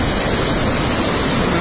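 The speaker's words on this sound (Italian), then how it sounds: "il fiume nella sua potenza" The Tanaro river rushes powerfully beneath the Meier bridge, a loud, steady broadband roar of heavy water that fills the whole clip without a break.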